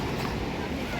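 Ocean waves and wind at Norah Head beach form a dense, roaring wash with heavy microphone wind noise, loud and unbroken for the full second and masking any distinct boat sound.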